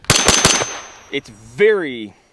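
FN P90 firing a quick burst of about four sharp, loud gunshots at close range, followed by a brief pause and then a voice speaking.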